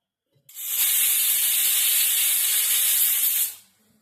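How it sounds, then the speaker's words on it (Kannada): A pressure cooker of rosy dock sambar lets off a loud, sustained steam whistle and hiss lasting about three seconds, starting abruptly and cutting off sharply, heard alone. "3-4 ವಿಸಿಲ್ ಆಗಲಿ"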